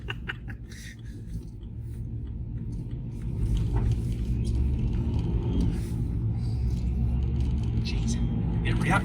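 A BMW 120d diesel rumbles as it accelerates, the engine and turbo building to a louder, steady drone from inside the car, with people talking over it.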